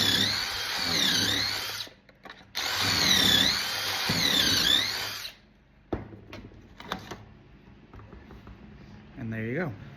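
A power drill whines loudly in two long bursts as it bores into wood for a butt joint, then stops; afterward come a few clicks and handling knocks, and a short whirring sound near the end.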